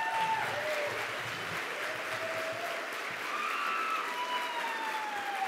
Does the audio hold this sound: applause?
yes